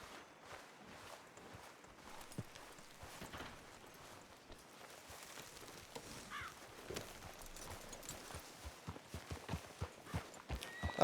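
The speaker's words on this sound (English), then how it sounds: "A lot of horses." Several horses in WildRP, a Red Dead role-play game, clip-clop steadily, faint at first and growing closer and louder toward the end, with no talk.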